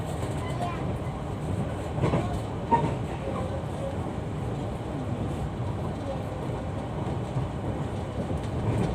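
KA Argo Sindoro passenger train rolling slowly through Jatibarang station, a steady low rumble from inside the carriage with a few faint wheel clicks, while voices talk over it.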